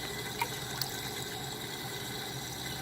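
A Tunze Osmolator auto top-off pumps water back into an aquarium, a steady low watery hum and trickle running evenly throughout with a couple of faint clicks.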